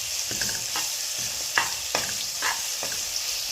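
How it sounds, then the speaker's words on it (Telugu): Ginger garlic paste fries in a pan under a soft continuous sizzle, with a few distinct scrapes and taps of a spoon stirring it at irregular intervals. "అల్లం వెల్లుల్లి పేస్ట్ కొద్దిగా వేగనిద్దాము"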